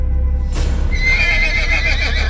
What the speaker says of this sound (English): all the horses began neighing aggressively before they galloped off, startled